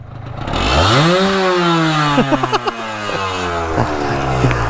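A Yamaha RXZ six-speed two-stroke motorcycle revs up loudly and close by, its buzzy engine note climbing and then holding a high, rasping drone with a few sharp popping blips.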